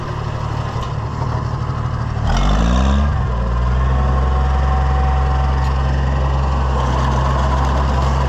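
An Oliver 356 sickle mower cutting ditches, a loud, steady engine drone with a low rumble that swells slightly partway through and keeps running close by without talking.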